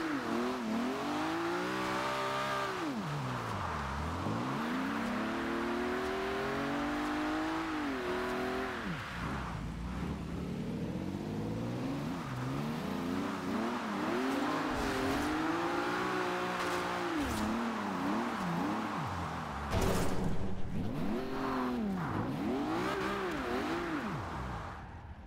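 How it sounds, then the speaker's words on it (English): Car drifting in Forza Horizon, a racing video game: a loud engine revs and sways up and down continuously, with screeching tires mixed in across the run and no voices. "So that's my drifting on Forza Horizon 3"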